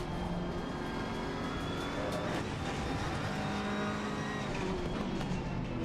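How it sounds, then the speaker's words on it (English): A Ferrari 488 GT race car in a racing video game at Brands Hatch roars steadily at close range while braking hard, its engine note and tire noise holding a constant dense level throughout. "Whoa, braking hard there, huh?"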